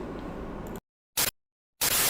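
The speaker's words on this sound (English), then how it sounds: "what you're hearing is the noise coming from the air conditioner" An air conditioner hums and hisses steadily at low level for under a second, then cuts to silence broken by two short bursts of noise.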